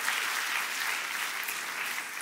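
A church congregation applauds together, a dense, even wash of clapping that carries on steadily at moderate volume without any talking over it.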